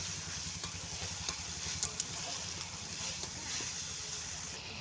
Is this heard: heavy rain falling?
no